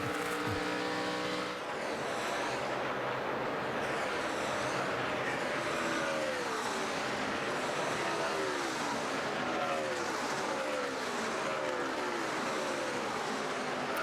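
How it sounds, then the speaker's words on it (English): NASCAR stock cars racing at the 2012 Brickyard 400 in Indianapolis: a dense, continuous engine roar as cars pass, with rising and falling engine pitch from passing cars throughout, and no talk. "So the 27, that neon yellow car come through, the defending winner, Paul Menard."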